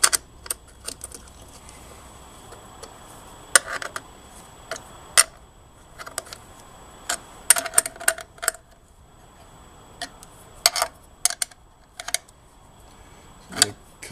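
Scattered metallic ticks, clicks and light clanks come from tightening down a detachable bulkhead on a machine tool, with irregular sharp taps over a quiet background and no speech.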